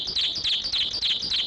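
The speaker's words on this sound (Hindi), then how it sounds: "ये देखिए सर, ये एक ही चिड़िया जिसने आकर अपना घोंसला बनाकर रखा हुआ है" A small bird chirps beside its nest, giving a quick run of bright, high tweets that repeat steadily and close by, with no talking.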